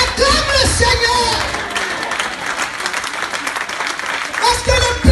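A church crusade congregation applauds and cheers in acclaim of the Lord, loud sustained clapping and shouting with voices rising above it at the start and end.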